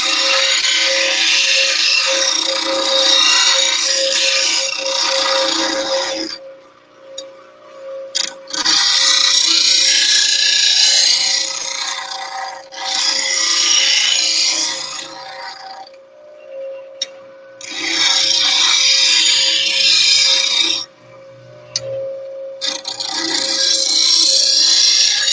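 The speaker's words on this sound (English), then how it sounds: "I'm going to make a few final good cleaning passes and see if I can clean up some of those grind marks." A woodturning gouge ground to an Ellsworth grind on a grinder, with loud abrasive rasping passes lasting several seconds each, separated by the motor's steady humming tone.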